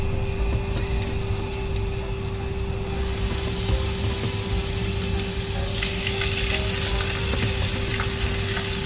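Chicken pieces sizzling loudly as they go into a hot pan for a fideuá with free-range chicken, a steady frying crackle that swells partway through and carries on with no talking.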